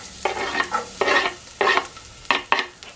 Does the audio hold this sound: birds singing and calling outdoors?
no